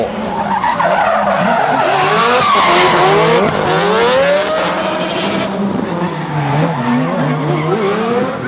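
Drift cars in a 2014 drifting championship battle, tires squealing in long wavering screeches over loud, continuous engine roar that stays near and intense throughout, with one car spinning out on a corner.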